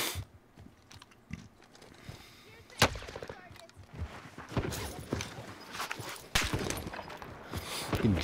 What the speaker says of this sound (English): Getting shot from out in the field again.